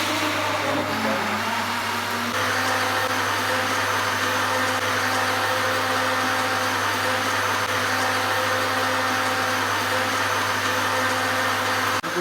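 An electric blender whirs loudly and steadily while mixing a banana milkshake, a continuous close motor hum with a slight shift in tone after the first couple of seconds, stopping at the very end.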